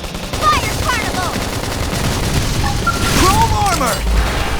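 Gunfire in a combat scene from the video game Xenoblade Chronicles X, with bursts and booms over a dense, loud mix of battle effects and music, plus a voice calling out.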